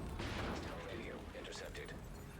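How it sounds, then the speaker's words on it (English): Video game gunfire pops in a cluster of shots, a loud burst early on followed by scattered reports under a busy mix. "I hear gunfire."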